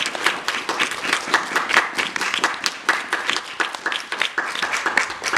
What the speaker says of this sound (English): I hope you'll join me in giving a round of applause to our speakers again.